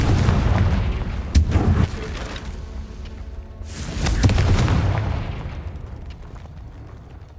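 Two Confringo blasting spells explode in Hogwarts Legacy, each a sharp crack followed by a booming rumble that trails away, loud and close, the second blast swelling longer before fading to quiet.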